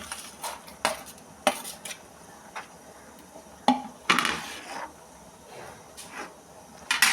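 Boiled potatoes tipped into a boiling curry pot, with close metal utensil clinks and clatters at irregular intervals, a louder scraping burst midway, and no talk over it.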